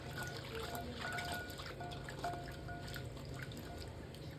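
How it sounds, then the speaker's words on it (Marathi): Quiet trickling and gentle sloshing of water as karonda berries are rinsed for pickle, soft and steady throughout. "त्यामध्ये आपण पाणी घालून मस्त असे वॉश करून घेणार आहोत"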